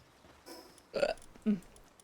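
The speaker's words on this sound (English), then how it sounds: "That was like straight up a belch I just did." A person belches during a Palworld game stream, a short quiet burst followed by a second, stronger gulping burp, close to the microphone with no talk over it.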